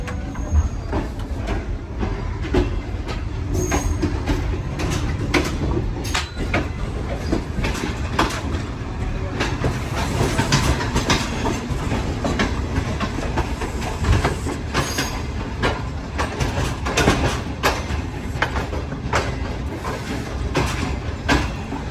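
A Karakoram Express train rolls along the platform, a steady loud rumble with rhythmic clickety-clack of wheels on rail joints and occasional squeals, continuous throughout.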